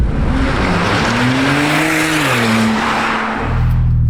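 Porsche 991.2 Turbo S with its exhaust silencer removed and a stage 1 engine remap, its engine and exhaust droning loud and near as the revs rise and fall, ending in a deeper rumble with no talk.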